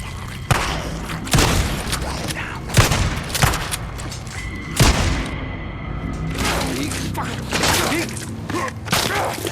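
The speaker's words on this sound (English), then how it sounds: "We are going to use the same shotgun in the tunnel scene." Shotgun blasts in a tunnel during Days Gone gameplay hit as several loud, sharp booms spaced a second or two apart, each trailing a reverberant tail, with game voices talking between shots.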